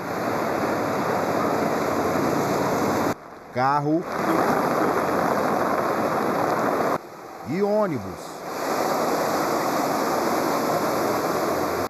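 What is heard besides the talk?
floodwater flowing through streets after heavy rain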